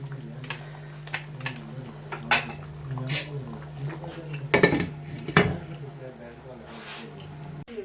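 Metal spoon clinks and scrapes against a pot as mutton and peas curry is served out, a few sharp clanks over a steady background hum, with faint talk.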